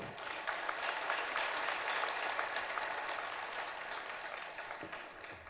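An audience at a Jain sermon by Acharya Vidyasagar in Shirpur, Maharashtra, breaks into sustained applause, dense and continuous clapping from a large crowd that fades slightly toward the end.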